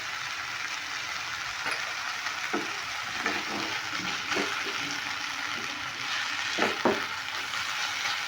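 Garam masala and Kashmiri chili frying in a hot pan, a steady loud sizzle with scattered scraping bursts as the spices are stirred and cooked down, no talk.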